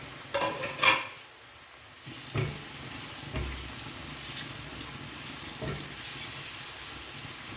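Chopped bell peppers and seeded tomato sizzle in butter in a pan, a steady soft frying hiss with a few clinks and stirring scrapes near the start.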